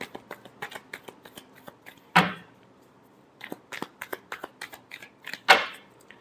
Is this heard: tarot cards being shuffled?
yes